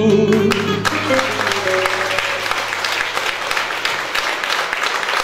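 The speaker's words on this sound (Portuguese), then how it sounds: "Palmas para o Fábio Silveira, que está tocando no baixo" Audience applause at a live fado performance, dense steady clapping that takes over as the music cuts off and keeps going.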